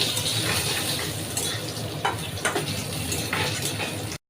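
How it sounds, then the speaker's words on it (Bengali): Fried potatoes are tipped into a pan of mutton curry and stirred, with a steady sizzle under repeated scraping and clinking of a spoon against the metal pan. "এখন দিয়ে দিচ্ছে ভেজে রাখা আলুগুলো।"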